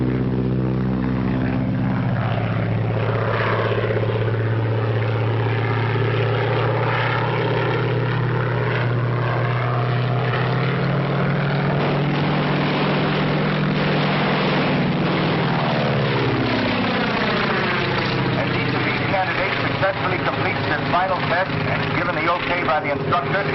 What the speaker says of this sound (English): The first three candidates are approaching the field from your left.